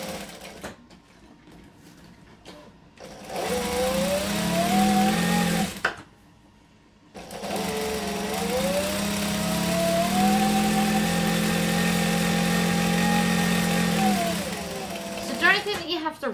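A fast industrial sewing machine stitches an apron in long sustained runs with a steady whirring motor hum, close and loud, pausing briefly in the middle before racing on again.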